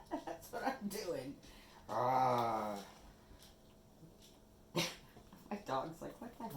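A dog whimpers in a home kitchen while dog treats are being made: one drawn-out whining cry, fairly loud and close, with short snuffling noises and scattered small sounds around it.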